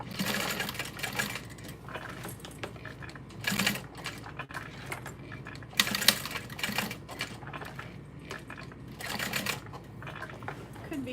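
Sewing machine running a box stitch through a fabric bucket bag, heard in short stop-start bursts of rapid needle chatter with quiet gaps and small clicks between, close and moderately loud.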